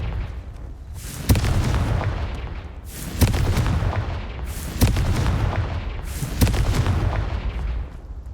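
Confringo spell explosions from the video game Hogwarts Legacy give four loud, evenly spaced booming blasts, each with a sharp crack and a rolling rumble that decays into the next.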